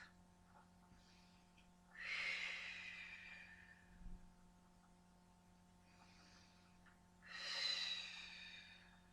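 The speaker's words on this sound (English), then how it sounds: "Nice noisy breathing to expel the oxygen from your lungs and to get those abs to work." Two loud, forceful breaths hissing out several seconds apart during a Pilates abdominal exercise, close and alone over a low steady electrical hum.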